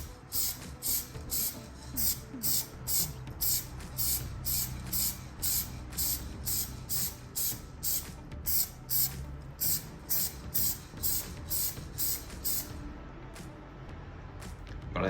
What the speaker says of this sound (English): I'm gonna give them 3 very light coats of matte black paint.